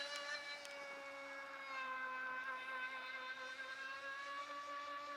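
Hobby-grade RC prop ski boat running at full throttle out on the water, its small motor giving a steady high-pitched whine that holds at a distance and shifts slightly in pitch.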